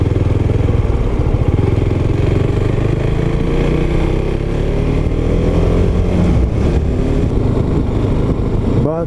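A Husqvarna Vitpilen 701 single-cylinder street motorcycle rides slowly in third or fourth gear, its engine a loud, steady, rough thrum throughout, with a brief rising whine near the end.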